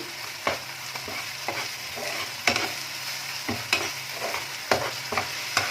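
Chili garlic paste being stirred into pepper garlic chicken frying in a pan, with a steady sizzle and repeated scraping clicks of the spatula at a close distance, no voices.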